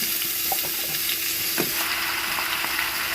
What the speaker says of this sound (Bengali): এবার দিয়ে দেব কেটে রাখা কুমড়ো